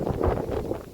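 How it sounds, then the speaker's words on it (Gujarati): Wind buffets the microphone on a farm during rain, a low rumbling gusty roar rising and falling over one second with no voices. "પવન એમ આવે છે આજમાં"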